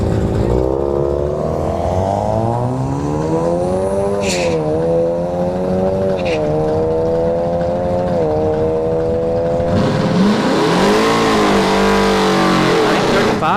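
Drag racing cars at a dragstrip during a street-class event, one an EcoBoost Mustang, roar past with engine notes that rise and fall through gear changes, loud and continuous, and a crowd or announcer can be heard faintly underneath.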